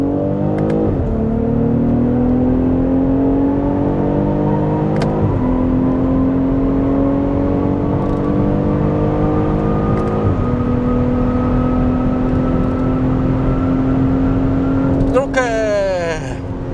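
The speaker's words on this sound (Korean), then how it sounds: "변속기는 좌측으로 밀어서 S 모드 상태에서 가속 페달만 전개해서 진행을 해 보도록 하겠습니다." A BMW X6 xDrive 40i M Sport accelerates at full throttle in S mode, the engine note climbing steadily with brief dips at gear changes, loud and sustained inside the cabin, with a voice heard near the end.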